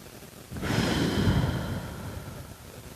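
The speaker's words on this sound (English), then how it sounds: "Breathing in and out." A single long, audible breath in a forward-fold yoga stretch outdoors in the mountains starts about half a second in and slowly fades, close and airy, with no talking.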